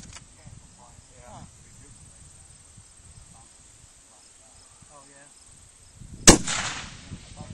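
A rifle shot strikes a steel target at a Thunder Valley shooting stage, one sharp crack and ringing impact late in the clip after quiet stretches of insect chirping and low voices.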